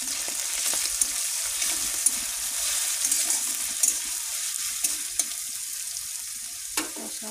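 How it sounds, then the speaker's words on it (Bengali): Ginger and onion with salt sautéing in a pan give a steady, close sizzle and frying hiss, broken by occasional sharp clicks of a utensil stirring against the metal. "আদা, পেঁয়াজ, নুন দিয়ে দিয়েছি, একটু কষাবো।"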